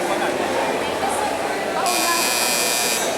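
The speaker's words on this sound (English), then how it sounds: "can we please try again our buzzer, Joshua?" A quiz bee contestant's buzzer is tested with a bright electronic buzz that starts partway through and holds steadily to the end, loud and close over a noisy room with voices.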